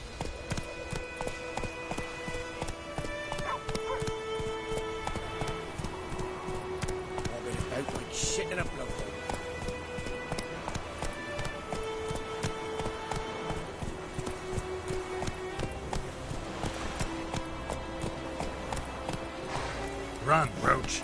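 A horse gallops in The Witcher 3, with rhythmic clip-clop hoofbeats running steadily through the scene under music and a man's spoken lines.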